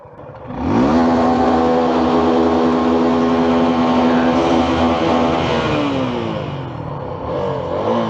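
A Suzuki off-road motorcycle's engine revs up loudly and close during a ride on an off-road track, climbing sharply, holding a strong steady drone, then easing off near the end.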